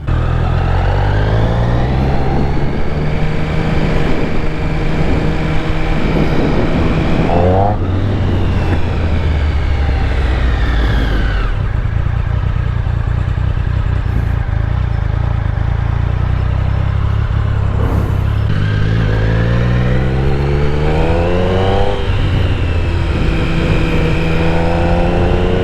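A superbike engine warms up close by, idling with a deep throbbing rumble and breaking into several sharp revs that rise and fall, loud and unbroken, with no talking.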